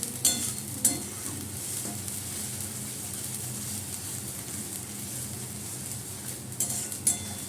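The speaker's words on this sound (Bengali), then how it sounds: "এটা ভালো করে নাড়তে হবে" A boiled, mashed mixture is stirred in a pan as it dries out, giving a steady close scraping and faint sizzling, with a few brighter clinks near the start and end and no voices.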